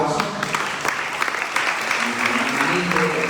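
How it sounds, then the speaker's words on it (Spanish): A congregation at a Spanish-language church service gives a sustained round of applause, steady and moderately loud, with voices mixed in underneath. "les damos un fuerte aplauso"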